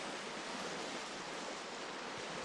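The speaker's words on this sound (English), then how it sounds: "I can hear the waves crashing on the shoreline" Ocean waves crash on the Fire Island shoreline on a chilly, windy morning, a dense, steady roar of surf that fills the whole stretch with no breaks and no voices.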